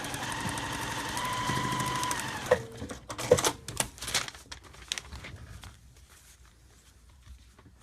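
A sewing machine runs in a steady buzzing burst while stitching fabric for paper piecing, close by and moderately loud, then stops abruptly with a few clicks and handling noises before quiet.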